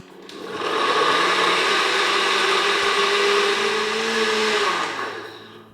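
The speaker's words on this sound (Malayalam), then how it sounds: "ഇനി മിക്സിയുടെ ജാർ അടച്ച ശേഷം ഇത് നന്നായിട്ട് ബ്ലെൻഡ് ചെയ്തെടുക്കുക ഒട്ടും കഷ്ണങ്ങളൊന്നുമില്ലാതെ നല്ല സ്മൂത്ത് ആയിട്ട് വേണം ബ്ലെൻഡ് ചെയ്തെടുക്കാൻ" Mixer grinder jar blending mango and milk smooth for mango pudding: a loud, steady motor whine that spins up quickly, holds an even droning roar for several seconds, then winds down, close and alone.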